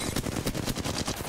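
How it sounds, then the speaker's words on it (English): Rapid gunfire in the shooter game Apex Legends, a dense run of automatic shots crackling quickly for over a second, fairly quiet and with no talk. "where am I being shot at?"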